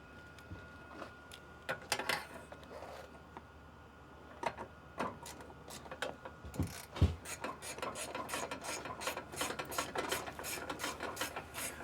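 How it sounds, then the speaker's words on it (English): Bolts being removed on a Mercedes Sprinter van, with quiet ratcheting clicks and scraping metal in short bursts, growing busier and more continuous toward the end, heard close and faint. "Now we got two more bolts to remove."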